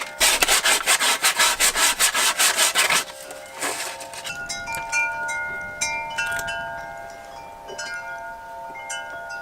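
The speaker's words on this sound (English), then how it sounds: "I'm going to sand it down as much as I can." Sandpaper scrubbing old adhesive off an RV wall in quick rhythmic back-and-forth strokes for about three seconds, then quieter scattered rubbing and faint scraping.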